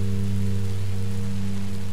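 Rain falls in the video game Minecraft Story Mode as a loud, even wash of noise under a steady low humming tone, unbroken for the whole moment with no voices.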